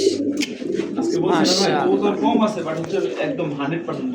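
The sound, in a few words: Black Lahori pigeons cooing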